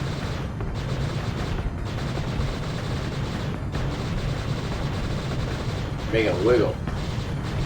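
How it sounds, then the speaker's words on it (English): Big cannons firing in the Sega Saturn game Panzer Dragoon II, a dense stream of rapid booming shots and explosions under a driving game soundtrack, with a person talking briefly over it. "So shoot the big cannons."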